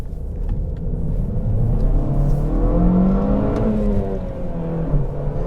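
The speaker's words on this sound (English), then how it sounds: "engine noise coming out of this" A 2022 Toyota Corolla SE with a manual gearbox revs its engine, rising steadily in pitch to a peak around the middle and then easing back down, with a moderately loud, smooth drone and no talking.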